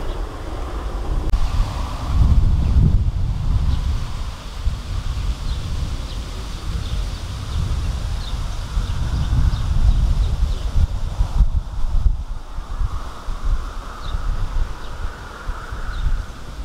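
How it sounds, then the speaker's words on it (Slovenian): Very strong wind blowing over open water, roaring and gusting loudly against the microphone in uneven surges for the whole stretch, with faint bird chirps in the background and no talking. "Duva veoma jak vetar, suprotno od mene."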